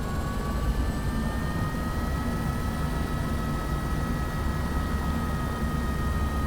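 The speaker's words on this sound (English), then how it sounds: "We'll just bring up that throttle." A simulated aircraft engine in Microsoft Flight Simulator 2024 being throttled up gives a steady, close droning roar with a constant whining tone, holding an even level throughout.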